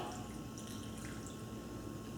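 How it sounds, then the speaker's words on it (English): Water pours steadily into a blender jar that already holds vinegar and chopped pineapple and mango, a continuous close liquid rush and trickle that runs unbroken from start to finish. "and the water. I'm just going to add half right now."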